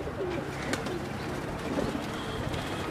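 A blue Teddy pigeon coos softly and repeatedly over a steady low hum of background noise.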